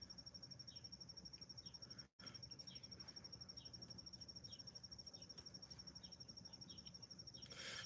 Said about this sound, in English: It's a bug or a cricket or something.